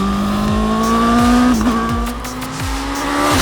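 A Honda CB1000 Hornet SP naked motorcycle engine rises steadily in pitch under opening throttle, a loud, close, continuous rev heard alone without talk.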